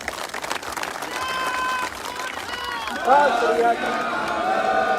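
A crowd at an outdoor gathering applauds with a continuous roar of clapping that swells louder near the end, while a voice speaks over it.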